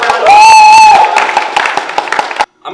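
A studio audience bursts into applause and cheering, clapping and whoops loud and close for about two and a half seconds before cutting off abruptly.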